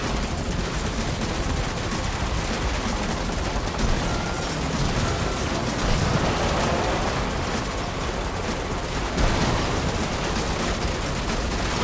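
A big gun fires continuously in the Matrix Awakens Unreal Engine 5 demo, a dense, loud, unbroken stream of rapid gunfire with occasional heavier bangs and no talk.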